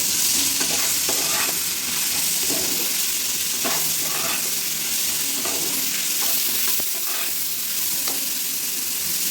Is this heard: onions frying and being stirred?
yes